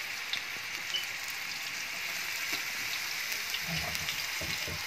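Steady crackling sizzle of frozen homemade food pieces frying in hot oil for Ramadan, continuous and close, with soft bubbling pops as more pieces go in.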